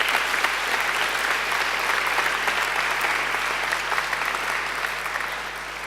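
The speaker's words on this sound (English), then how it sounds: "I think they deserve a great round of applause too." A graduation ceremony audience gives a full round of applause, loud, dense and even from start to finish, easing off only slightly in the last second.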